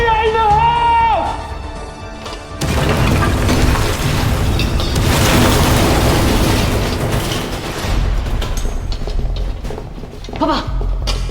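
A big explosion erupts with a loud, broadband rumbling boom that rolls on for several seconds, preceded by a shouted voice and followed by more faint voices.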